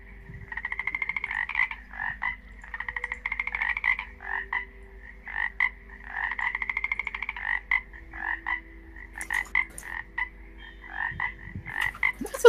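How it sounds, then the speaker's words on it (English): Many frogs croak together in loud rhythmic bursts of rapid pulsed calls, chorusing in repeated waves with short gaps, up close and without talk. "That's a lot of frogs!"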